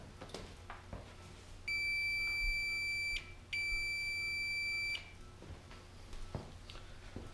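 An electronic tester emits two long, steady high-pitched beeps with a brief gap between them while checking go-kart 150 CDI kill switch wires, fairly faint over a quiet background with light handling noise.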